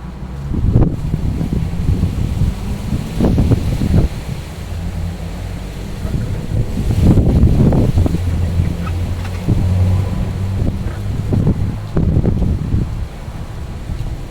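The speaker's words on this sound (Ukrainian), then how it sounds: "Це не вітер, це просто скажений якийсь буревій." A fierce squall buffets and roars in repeated gusts over a vegetable garden, rumbling heavily across the microphone throughout, with no voices.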